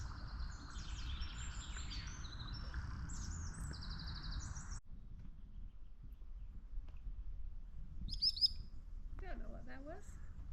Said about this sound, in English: Some kind of warbler.